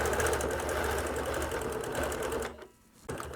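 A sewing machine free-motion quilting onto batting runs in a fast, steady stitching rattle, close and continuous, pausing briefly near the end before starting again.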